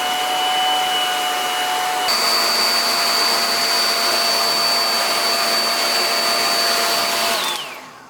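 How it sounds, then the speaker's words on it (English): A handheld blow dryer runs steadily at close range over homemade scented candles, a loud continuous whooshing airflow with a whining motor tone that shifts pitch partway through and cuts off near the end. "I'm going to use the blow dryer to help reduce that homemade look."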